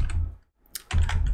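Computer keyboard keys clicking in quick bursts while a Go program is written, a short flurry, a brief pause, then another run of close, crisp taps.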